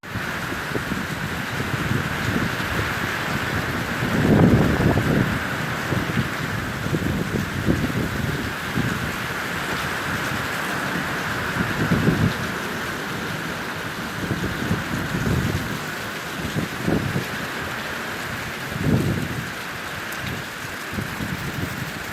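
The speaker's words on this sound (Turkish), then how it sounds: "Etkisini gösteren sağanak yağış ise Baskil'de bir vatandaşın cep telefonu kamerasına yansıdı." Heavy downpour in Baskil, Elazığ, a steady hiss of rain throughout with recurring low rumbling swells of wind or runoff, recorded close on a phone.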